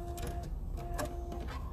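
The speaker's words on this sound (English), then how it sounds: "I'm going to top stitch it while I sew it closed." A sewing machine top-stitches a fabric strap closed, running in a steady close mechanical whir with a few short bursts and pauses.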